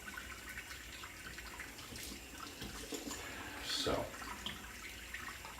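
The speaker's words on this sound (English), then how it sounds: "hold tight while I rinse" Water runs from a tap as hands and face are rinsed after a shave, a steady faint splashing with a brief louder gush near the end; one short spoken word comes early.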